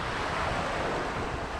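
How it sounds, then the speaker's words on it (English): Surf at the beach of Selkirk Provincial Park in mid-June, a continuous broad wash of waves mixed with wind buffeting the microphone, steady and fairly soft with no voices. "We're down at the beach."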